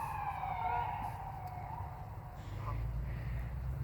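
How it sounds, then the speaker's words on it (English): A faint ambulance siren wails in the distance as it passes, its falling tones fading against a low steady background hum. "So they did pass our place, an ambulance."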